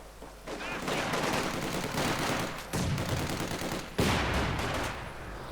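Dense battlefield gunfire from a WWII real-time strategy game pitting Soviet conscripts against German grenadiers: sustained loud rifle and machine-gun bursts with heavy thumping impacts, including a sharp mortar-like blast near the end.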